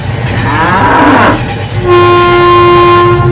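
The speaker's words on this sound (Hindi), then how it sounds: "उसने फौरन ट्रेन रोक दी" Cartoon sound effect of a train slowing down and stopping in an animated story. A loud rumble of rolling wagons gives way to a long, steady horn-like tone that holds to the end.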